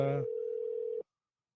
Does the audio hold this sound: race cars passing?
no